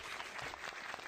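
A short burst of polite golf-clap applause, a steady patter of light hand claps from a small group for about a second.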